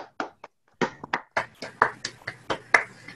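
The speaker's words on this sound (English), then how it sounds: "please join me in giving a big round of applause to all the employees being recognized today" Scattered, uneven hand claps and taps from a few people joining remotely to applaud employees at an environmental achievement awards ceremony, sharp separate hits one after another.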